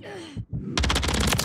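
Gunfire in Call of Duty: Modern Warfare 3 ranked play: a brief whoosh and pause, then a loud, rapid automatic burst of evenly spaced shots lasting most of a second.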